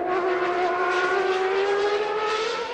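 A McLaren Formula One race car howls past with a steady, high-pitched engine whine that rises slightly in pitch, loud and continuous, with no talking over it.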